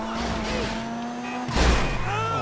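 A car in GTA 5 Online skids with a loud, sustained tire squeal, followed by a thumping jolt and a fresh screech as the engine keeps droning underneath.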